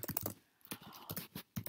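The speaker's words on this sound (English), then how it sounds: "my typing is really loud" Loud computer keyboard typing close to the microphone, sounding as a quick run of sharp clacking keystrokes in uneven bursts with brief pauses between them.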